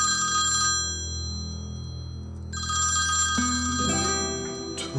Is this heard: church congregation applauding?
no